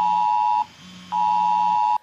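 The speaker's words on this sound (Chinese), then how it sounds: "手机警报大响" A mobile phone national-level emergency alert sounds loud and close, two long piercing steady beeps separated by a brief gap, then cutting off.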